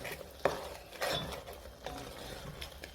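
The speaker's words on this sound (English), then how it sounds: "And then I'll stir these and then introduce the lentils." A spoon stirs vegetables in sauce in a cooking pot, giving a few scattered scraping clinks and soft sloshes, fairly quiet and spaced apart.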